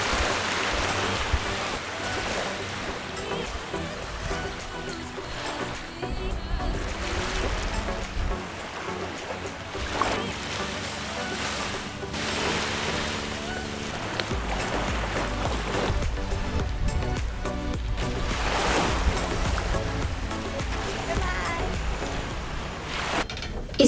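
Steady rush of water and wind around a moving boat on sea waves, a continuous broadband wash with occasional surges, no talking.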